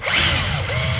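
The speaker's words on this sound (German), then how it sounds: "Ansetzen und verschrauben." A power screwdriver drives screws through gypsum plasterboard into a metal U-track and stud profile, giving a loud, close whirring burst that rises and shifts in pitch as the screw seats. No one speaks.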